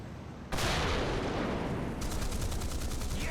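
A French AMX-30 (1972) tank fires its main gun in War Thunder, a sudden heavy boom that rolls into a long roaring rumble, then rapid rhythmic mechanical clatter continues underneath.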